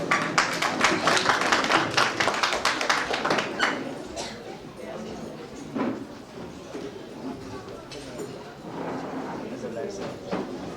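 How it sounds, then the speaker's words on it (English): An audience at a Chinmaya Mission Guwahati annual day event claps, loud and dense at first, then thinning out as chanting voices begin. "May I have a huge round of applause, please."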